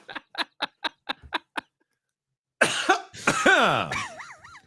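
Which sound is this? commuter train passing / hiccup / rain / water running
hiccup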